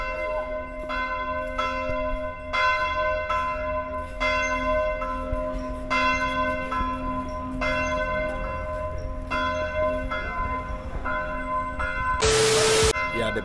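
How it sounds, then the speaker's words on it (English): A bell at Shillong Cathedral tolls repeatedly in a slow, steady rhythm, its ringing tones lingering over faint background noise, ending with a brief burst of static. "the bell is ringing"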